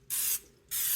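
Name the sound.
olive oil spray being sprayed on meat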